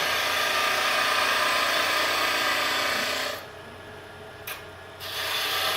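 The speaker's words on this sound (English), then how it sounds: "I'll show you what you do when you use it as a scraper." A skew chisel used as a scraper on wood gives a steady, close rasping scrape that stops briefly near the end, then resumes, with no talk.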